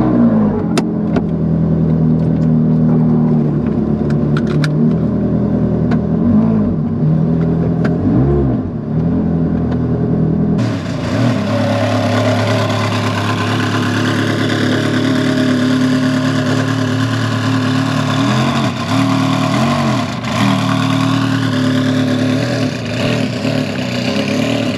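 Ferrari 360 CS engine starting and revving: a loud, close mechanical roar with repeated sharp throttle blips and rising and falling revs, continuing as a sustained, strong engine note throughout, with no talking.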